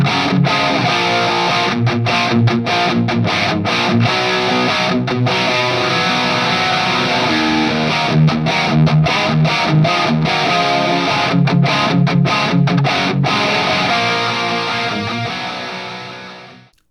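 Electric guitar through an overdriven handwired boutique tube amp plays a continuous riff with thick distortion and punchy mid-range, with brief rhythmic stops, loud and close, fading at the end.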